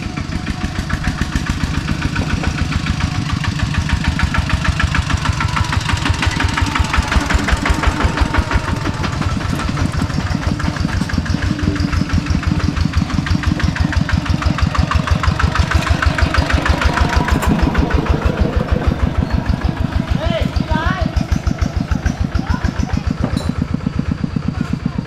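A tractor engine runs steadily at close range in a mountain village in Laos, its rapid, even chugging holding a constant loud throb throughout with no pauses.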